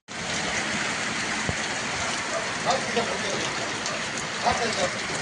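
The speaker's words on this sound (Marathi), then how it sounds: "पहिला पाऊस आहे बरं का मस्त पाऊस चालू झालेला आहे" The season's first rain falls steadily outdoors as an even, dense wash of patter. A few slightly louder drops and splashes stand out now and then, and the rain continues throughout.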